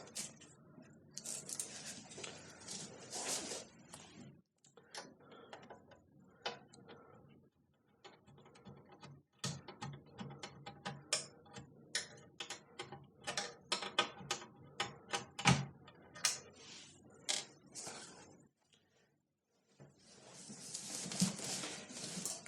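A screwdriver backs screws out of a 486 computer's case, giving close, irregular bursts of small metallic ratcheting clicks and scrapes with brief pauses between them.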